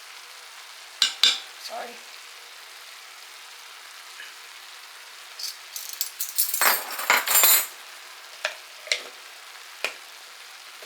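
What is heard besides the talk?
garlic frying and sizzling in a pan with cabbage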